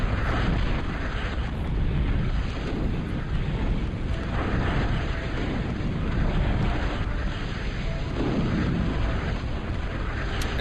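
Explosions and rumbling blasts from bombers attacking a battleship in the real-time strategy game Total Annihilation, forming a dense, continuous roar with no clear gaps.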